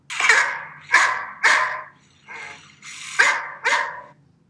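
A butcher's dog barks as a sound effect in an Italian children's story reading: six loud, close, sharp barks in an uneven rhythm, alone with no voice over them.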